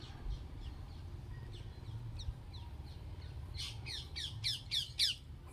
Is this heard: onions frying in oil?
no